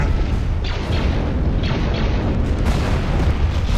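Missile volleys and booming explosions in a Star Wars strategy game, fired by Imperial Missile Destroyers; loud, continuous roar with several distinct whooshing launches over heavy rumbling blasts.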